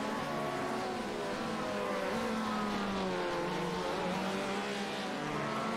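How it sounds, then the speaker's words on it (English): Open-wheel race car engine at Long Beach during a Super Sprint championship race, held in a lower rev range with a steady droning tone that rises and falls slightly, loud and continuous throughout with no talk. "You can hear that engine's in lower range."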